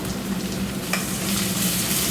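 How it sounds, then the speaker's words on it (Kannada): Curry leaves and onion hit hot oil in a sambar tempering, giving a loud, dense, continuous sizzle and crackle close up. One brief sharper pop rises above it, and nobody speaks. "ಇವಾಗ ಒಗ್ಗರಣೆಗೆ ಕರ್ಬೇವಿನ ಸೊಪ್ಪು ಕೂಡ ಸೇರಿಸ್ತಾ ಇದ್ದೀನಿ ಹಾಗೆ ಈರುಳ್ಳಿನೂ ಕೂಡ ಹಾಕ್ತಾ ಇದ್ದೀನಿ"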